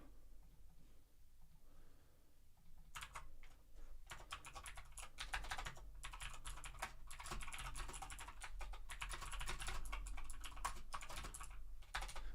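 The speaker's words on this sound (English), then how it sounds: "I'm using my mechanical typewriter again to write a little story." Dense, steady clatter of keys striking on a mechanical typewriter, close and fairly loud, starting after a few quiet seconds and running continuously with small pauses and no talk.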